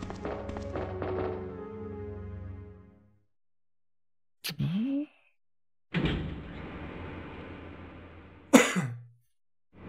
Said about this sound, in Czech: Kašel jsem už trošku sklidnil